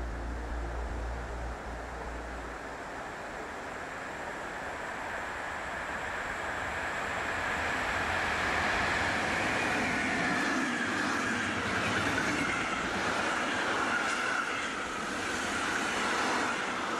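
Freight trains roll along a long German main railway line, a broad low rumble of wagons that swells gradually louder over the span, heard from outside at moderate distance with no voices.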